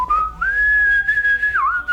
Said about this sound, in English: And I whistle as I'm walking away.